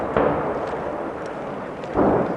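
Artillery shells land during a Pakistan army live-fire drill, heard as two heavy, rumbling blasts a couple of seconds apart with a softer thud between them, all at a distance.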